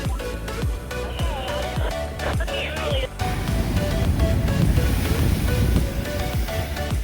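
Atlantic ocean waves surge and wash against a rocky shore near Hog Island Lighthouse, making a constant churning roar mixed with wind buffeting the microphone. Sharp thumps are heard early on.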